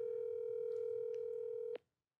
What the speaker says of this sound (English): I'm finna call him right now on speaker.